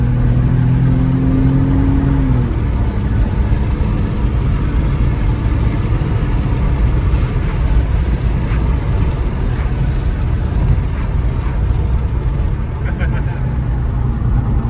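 A manual Porsche 911 held at 4,000 rpm in second gear gives a loud, sustained engine drone inside the car, its pitch climbing briefly at first and then steadying, with a voice occasionally heard over it.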